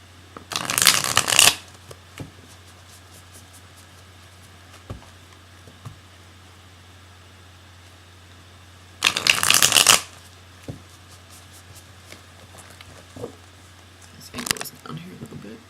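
Soft, pliable tarot cards are shuffled up close in two clear bursts about eight seconds apart, with a briefer rustle near the end and quiet handling sounds in between; no talking is heard.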